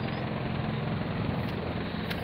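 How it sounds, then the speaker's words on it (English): An emergency helicopter taking off, a steady broadband rotor and engine roar holding level and fairly loud for the whole stretch, with no talk over it. "There's a helicopter, emergency helicopter taking off."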